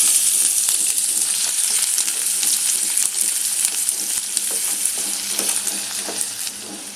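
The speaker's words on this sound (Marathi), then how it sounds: "कांदा आता चांगला आपण फ्राय करून घेणार आहोत" Chopped onion fries in about two and a half spoons of hot oil in a wok over medium heat for an egg curry, giving a steady, close, crackling sizzle with scraping stir sounds throughout and no talking.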